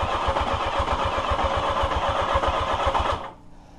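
A 1982 Yamaha XJ650 motorcycle engine cranks over steadily on its starter in rapid, even pulses, loud and close, then cuts off abruptly near the end.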